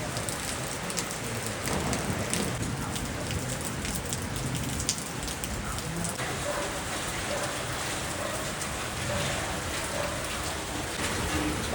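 Steady rain falling during a coastal road bike ride, a dense, constant patter of drops on surfaces lasting throughout, fairly loud and close with no clear talking.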